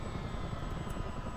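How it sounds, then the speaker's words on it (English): Twin engines of a CH-47 Chinook helicopter running down at shutdown, a loud, dense, continuous rumbling whine heard close up inside the aircraft with no voices. "Engines are shutting down."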